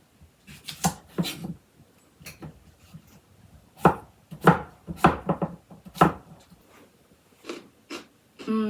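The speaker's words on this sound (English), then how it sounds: "I think we'll get our cucumbers sliced up first for cucumber kimchi." Garden cucumbers being sliced with a knife for cucumber kimchi: irregular, close, crisp knife strokes hit a cutting board in short bursts, with quiet gaps between them.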